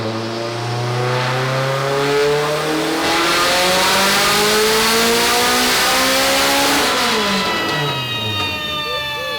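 An Acura Integra engine making over 730 horsepower revs hard at high power, a loud continuous roar that climbs steeply in pitch through the gears and then drops back, no voices.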